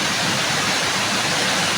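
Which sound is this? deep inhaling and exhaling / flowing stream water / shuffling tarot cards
flowing stream water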